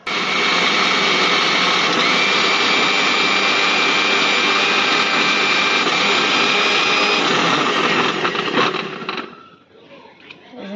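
A mixer grinder whirs loud and steady, grinding poppy seeds with water and green chillies, then cuts out near the end, leaving quieter sounds.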